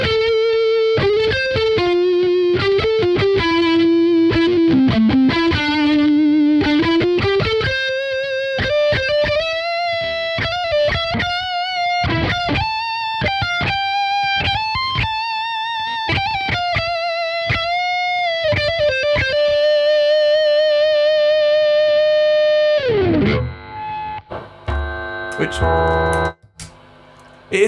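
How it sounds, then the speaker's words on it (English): Electric guitar with P90 pickups played through a high-gain RedSeven Leviathan amp, thick distorted lead lines with sustained bent notes for over twenty seconds, ending in a burst of heavy chords and feedback. "even with P90s, the lead sound is thick"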